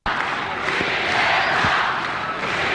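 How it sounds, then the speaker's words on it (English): Basketball crowd roaring and cheering continuously at a 1996 PBA All Filipino Cup game between Gordon's Gin and Sunkist, a loud sustained wash of voices with a couple of low thumps underneath. "And it's no wonder why they're cheering"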